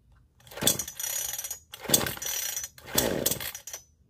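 A new chainsaw, used for trimming crepe myrtles, revs in three separate rasping bursts with short quiet gaps between them, moderately loud and nearby.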